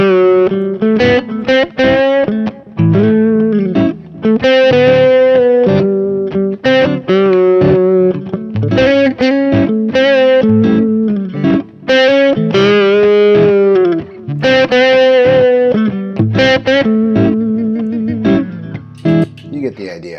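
Distorted electric guitar plays a blues line over a I-IV-V progression, with string bends, loud, close and unaccompanied, the notes picked in uneven phrases with short gaps between them.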